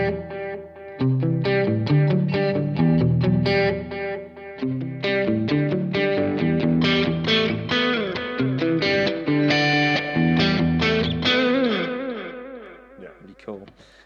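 Electric guitar played through a Blackstar AMPED 2 amp on an analog delay setting: a busy run of picked notes and chords with echoing repeats trailing behind, loud and close, softening into a wavering decaying tail near the end.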